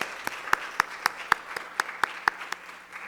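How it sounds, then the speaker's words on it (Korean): A congregation claps during a church worship service, producing about a dozen sharp, evenly spaced claps in a steady rhythm, fairly close and moderately loud in a quiet room. "우리 다시 박수로 축복합니다."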